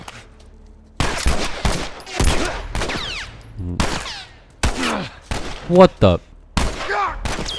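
Gunshots ring out in The Last of Us Remastered, sharp loud bursts in several separated clusters across the stretch, with a voice talking between and over the shots.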